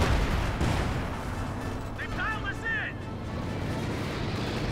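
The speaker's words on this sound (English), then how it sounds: "Another artillery strike." Artillery strike in the video game Company of Heroes 2, during a 2v2 match: a heavy, rumbling barrage of booming impacts and gunfire runs continuously with a voice faintly audible over it.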